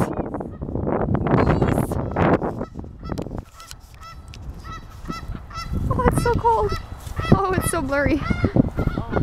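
Geese honk loudly and repeatedly near water outdoors, a cluster of close, harsh calls in the second half over wind noise, with people talking earlier.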